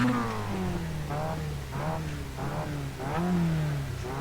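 A race car engine in a racing video game at Mid-Ohio revs repeatedly, climbing in pitch with each gear and dropping between shifts, steady and fairly close.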